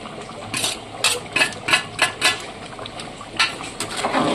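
Mutton lau dal with tamarind water just added, cooking in a pot, gives off soft bubbling and liquid sounds with several clinks of a utensil against the pot.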